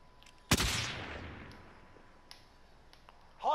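A single sharp gunshot in Call of Duty: Modern Warfare, loud and close, with a long echoing decay and faint distant pops afterward, followed by a brief voice at the end.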